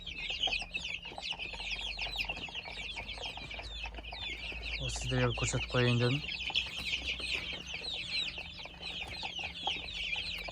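A flock of 22-day-old chicks peeps and chirps continuously at close range, with a soft background hum, while a person speaks briefly in the middle.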